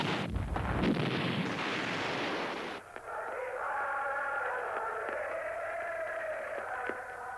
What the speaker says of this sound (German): Und die Geräusche des Krieges und der Klang der Marschmusik kommen vom Band.